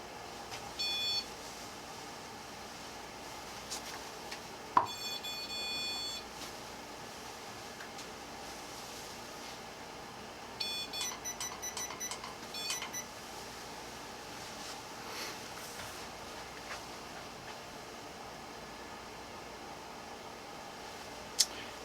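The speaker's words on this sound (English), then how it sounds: "A REM pod." A REM pod ghost-hunting device in a quiet room inside the Lizzie Borden house gives a few short electronic beeping bursts, faint against a steady hum of air or background noise, with no talking.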